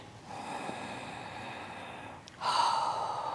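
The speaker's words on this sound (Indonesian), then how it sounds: "Bernapas, inhale dan exhale." Deep breathing during a morning neck and shoulder stretching routine, a steady airy breath that swells louder and closer in the second half, heard alone with no talk.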